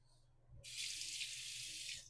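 Water runs steadily from a bathroom tap while a razor cartridge is rinsed, a close, even hiss starting after a brief pause and continuing to the end.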